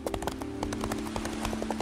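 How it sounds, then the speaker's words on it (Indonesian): A summoned horse galloping in the video game Chimeraland, with quick, steady hoof clops in a rapid rhythm over a constant low game drone, loud and close, with no talking. "Di sini gua panggil si kuda dulu ya."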